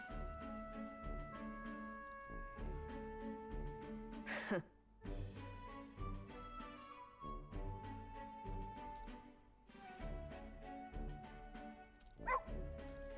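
Dog barking and whimpering in the video game Metaphor: ReFantazio, short bow-wow barks and yips over constant game music, with a few sharp louder bursts standing out near the middle and end.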